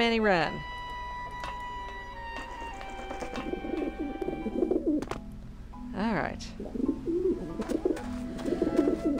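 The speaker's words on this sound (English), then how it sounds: "these dead skeletal pigeons over here" Dead skeletal pigeons in the Petrified Forest of the Grim Fandango video game coo repeatedly in soft, rounded calls, heard under people talking over the game.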